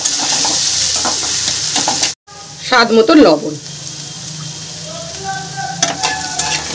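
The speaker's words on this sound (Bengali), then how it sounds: "সবজিগুলো দেখুন এখনো ভালো ভাজা হয়নি, আরেকটু ভাজা ভাজা করে নেব" Carrots, beans and capsicum stir-fry in a pan for Maggi, a close, busy sizzle with stirring that cuts out for a moment and resumes as a voice talks over it.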